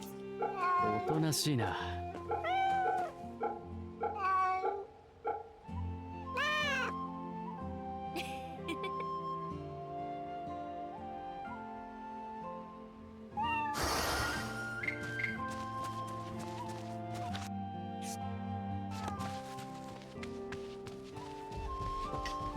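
A cat in the video game Fate/Samurai Remnant meows again and again, some cries long and wailing, over game music and other in-game sounds, with a voice speaking partway through.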